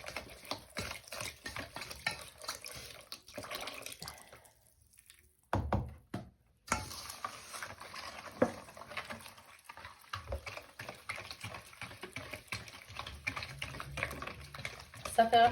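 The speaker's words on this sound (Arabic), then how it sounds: "غنخلطها هكا كيفاش يدوب داك السكر والخميره" Milk batter being whisked by hand to dissolve sugar and yeast, giving quiet rapid clinking and sloshing strokes in a bowl, with a short pause midway and a voice talking over parts of it.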